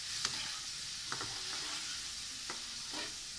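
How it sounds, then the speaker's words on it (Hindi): Meat frying in a pan over a medium flame, a steady soft sizzle with a few brief utensil scrapes and taps as it is stirred. "तकरीबन 5 मिनट हो गए हैं मुझे इसको फ्राई करते हुए"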